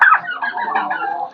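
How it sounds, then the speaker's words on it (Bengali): A guinea fowl on a fancy poultry farm gives a loud, close, rasping call lasting just over a second. "চীনা মুরগি অথবা তিতির পাখি"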